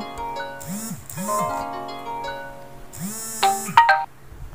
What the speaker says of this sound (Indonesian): Sorry agak terganggu, ada telepon tadi ya.